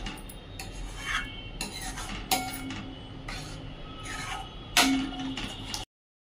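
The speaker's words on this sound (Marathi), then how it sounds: "मिक्स करून घेऊया।" A cucumber and curd curry mixture is stirred by hand in a pot, giving a soft continuous scraping and rubbing with a few sharper clinks of spoon against metal, heard up close with no talking.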